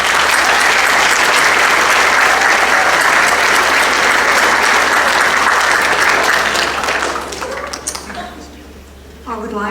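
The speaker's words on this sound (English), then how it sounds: "turn around to the people behind you and next to you and give them a round of applause" A large audience at a high school graduation ceremony claps in a loud, dense burst of applause that holds steady and then tapers off, with a voice speaking near the end.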